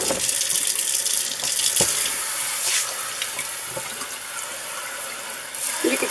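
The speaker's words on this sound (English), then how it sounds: "let's turn some water on here. Get it hot." Hot water runs from a kitchen tap into a granite sink, a steady broad hiss and splash that stays constant throughout, with a few faint clinks and no talk.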